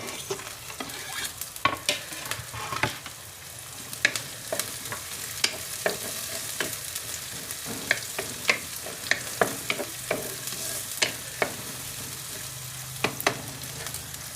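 Chopped green chillies and garlic frying in a pan for a Malappuram-style drumstick leaf tempering, a constant crackling sizzle punctuated by frequent sharp spatula taps and scrapes, close and steady throughout.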